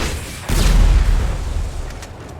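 A rocket striking a petrol pump in GTA 5 sets off one loud, heavy boom that swells and then rolls off into a long, fading rumble with scattered debris crackle, with no voices over it.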